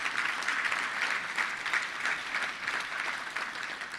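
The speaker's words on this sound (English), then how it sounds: "Let's give all the volunteers a big round of applause." Audience at a Little Rock Touchdown Club luncheon applauding the volunteers, dense steady clapping that fills the room for several seconds.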